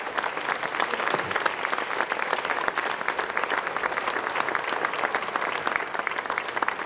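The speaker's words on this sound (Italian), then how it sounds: "vorrei che faceste un applauso a loro" An audience in a hall applauds steadily for about seven seconds, dense even clapping from many hands at a public talk by an astronaut in Ostra, with no voices rising above it.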